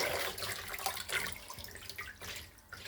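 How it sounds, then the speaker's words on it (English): Fresh water gushing and splashing over green leafy vegetables being washed, a steady close-up pour with uneven spattering throughout. "All over again, you put fresh, another water on it, another fresh water."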